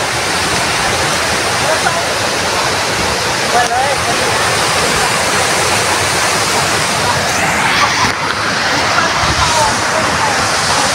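A tall waterfall reached after an hour's hike, its dense, steady roar filling the scene throughout at close range and loud, with faint voices mixed in beneath the rushing water.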